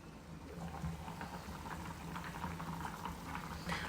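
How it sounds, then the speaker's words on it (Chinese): A pot of kimchi soup boiling hard on the stove, a dense continuous bubbling and churning close by, steady and fairly quiet with no voices. "泡菜锅沸腾了"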